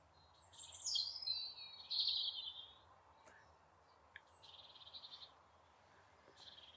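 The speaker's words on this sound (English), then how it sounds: "There's a robin singing up in the poplar tree." A robin sings from a poplar tree in an English garden on a June evening, faint and distant, with a few bright warbling phrases broken by quiet pauses and a soft click.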